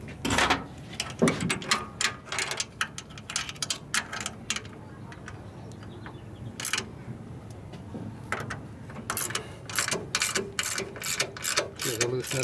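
A hand ratchet loosens a bolt on a motorcycle fender mount on a 2001 Gilroy Indian race bike, clicking in close bursts with short pauses between strokes.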